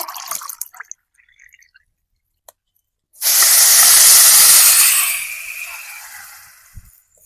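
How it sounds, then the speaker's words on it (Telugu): After a few light clicks, a sudden loud rushing hiss as water is poured onto sugar in a hot pan, sustained for about two seconds before fading into a softer simmer. "రెండు గ్లాసులు నీళ్ళు అయితే పోస్తాను"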